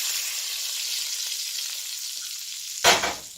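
A T-bone steak sizzles in a cast iron skillet with butter, rosemary and thyme, giving a steady, loud, close hiss. Near the end a brief louder burst of spatter cuts in, and no one speaks.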